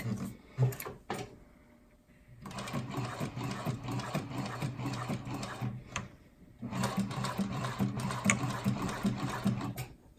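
Domestic sewing machine stitching through adjustable fabric with the needle pivoting in the material to turn a corner, running in two long bursts of steady whirring, separated by short pauses with faint clicks.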